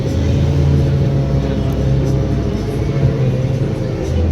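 Stunt motorcycle engine drones steadily and loudly during circle wheelies at an outdoor stunt show in Birmingham, a continuous low rumble with slight pitch wavering and no clear pauses.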